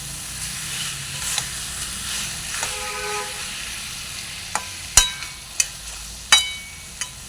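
Sizzling of 500 g of lote (Bombay duck) fish frying in a pan, a steady close hiss with a few sharp spits and crackles in the last seconds, no talking.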